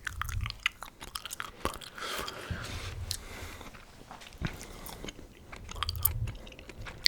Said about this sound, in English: when you're chewing something or chewing gum